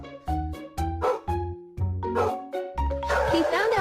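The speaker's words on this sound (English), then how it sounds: "My son didn't understand why he was barking" A dog barks repeatedly in sharp, loud bursts at a steady rhythm, reacting in fear to balloons, with a short gap before the barking resumes and continues over other noise near the end.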